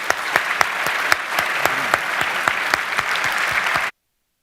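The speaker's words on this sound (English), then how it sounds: "let's give them one more round of applause" A room full of people applauds the speakers at a book event with Auschwitz survivor Celina Karp Biniaz, dense even clapping with crisp distinct claps on top, fairly close, ending abruptly in silence.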